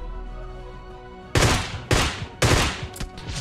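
Three sharp bursts of gunfire from the PUBG Mobile battle royale game, each one loud and close, come at roughly half-second gaps over a low droning background.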